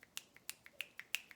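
Fingers snap in a quick, steady series of about nine crisp, sharp snaps within under a second and a half, mimicking the patter of medium rain, close and fairly quiet with no talking.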